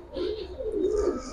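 Pigeons coo in a steady, warbling run of low phrases close at hand, with faint higher chirps in the background and no voices.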